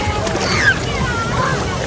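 A toy water pistol is pushed under pool water, giving a close, steady sloshing and gurgling wash, with a voice faintly present underneath.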